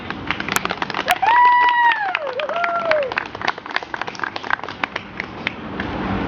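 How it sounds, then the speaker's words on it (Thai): Audience applause at a Thai children's stage show, dense and steady across the whole stretch, with a sliding whistle-like tone rising and falling over it near the start. "ขอเสียงปรบมือหน่อย"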